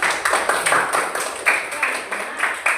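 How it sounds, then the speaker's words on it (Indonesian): A small group claps in a rhythmic pattern in a fifth-grade classroom, the claps sharp and evenly spaced with no talk over them. "tepuk tangan untuk kita semua hari ini"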